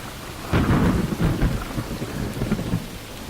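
Heavy rain pours steadily while deep rumbling thunder rolls through, loud and close, with no voices over the storm.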